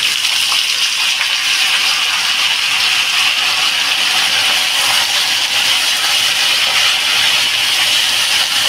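Vegetables dropped into a hot pan give off a loud, steady hiss and sizzle that continues evenly throughout with no pauses, close up and alone.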